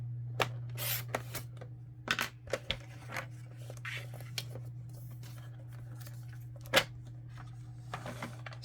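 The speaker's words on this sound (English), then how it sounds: "we're going to line up the tick mark in this corner into my cutter, and we're going to cut that piece off" A paper cutter trims a corner off cardstock, with quiet scattered snips, rubs and taps close by over a constant low hum.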